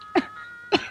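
Two short, sharp coughs about half a second apart, close and fairly loud, set over a faint steady tone in a comedy scene.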